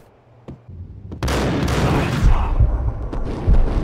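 Gunfire in the video game Max Payne: a sudden dense burst of loud shots erupts after a quiet start and keeps rattling and booming in a continuous volley until the end.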